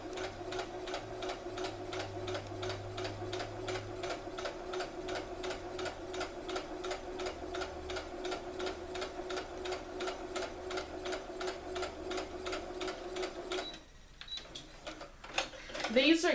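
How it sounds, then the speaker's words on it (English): A sewing machine sews a flat felt seam in a steady, fast, evenly ticking run for about fourteen seconds, close and moderately loud, then stops and is followed by a few handling noises. "I'm going to go ahead and sew that down."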